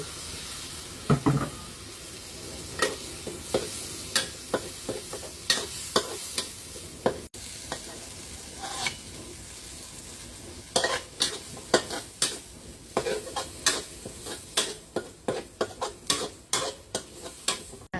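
Thai fish curry broth for khanom jeen yuak kluay cooks in a pot, with repeated clinks and scrapes of a spoon stirring against the pot over a soft bubbling sizzle, close and without talk.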